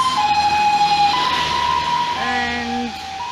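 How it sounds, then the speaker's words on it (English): An ambulance siren wails loudly as it passes along a street in an older part of Jiaxing, its rising and falling tones steady over traffic rumble. "Comes an ambulance."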